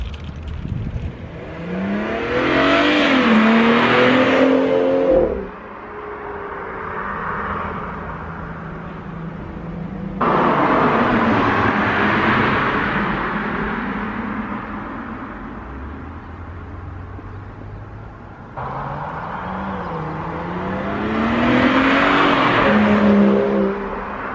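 A BMW exhaust with its exhaust valve opened roars through three hard acceleration runs, each climbing in pitch, with a quieter, steadier drone between the surges.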